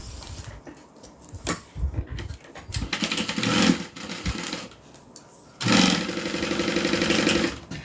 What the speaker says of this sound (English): we're going to go ahead and sew these sides of the pockets down